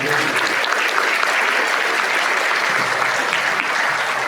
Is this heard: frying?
no